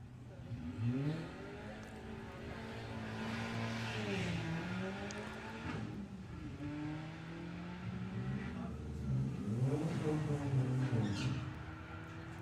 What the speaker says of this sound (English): Going alongside number 1 qualifier, Dominic Crawford with the Audi TT.